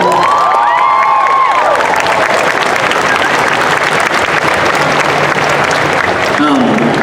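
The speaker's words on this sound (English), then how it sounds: "Let's give them a huge round of applause." A convention hall audience for Overwatch developers at MomoCon 2017 bursts into loud, sustained applause and cheering, a dense wall of clapping with shouts, opening under a brief call from a voice.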